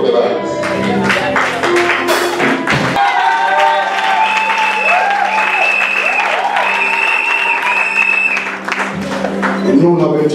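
Church congregation at an international church convention in Côte d'Ivoire applauding, a dense sustained clapping crowd with some cheering and thumps, sustained throughout with a voice heard in the mix.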